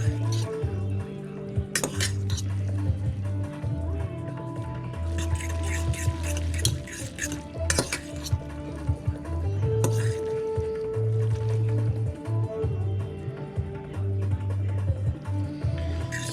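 Clinking and scraping of a utensil in a bowl while mixing instant noodles dressed with ginger and sesame oil, repeated wet stirring clatter over a steady low hum.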